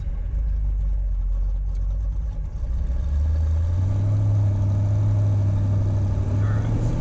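A 1963 Chevrolet Corvette Split Window Coupe engine drops down to second gear at about 2,500 RPM, a steady close-up drone that deepens into a heavier, louder pull partway through.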